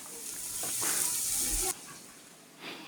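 Garam masala and other spices fry in a pan for a chickpea bhuna curry, giving a soft, faint sizzling hiss that holds steady and then drops away sharply partway through.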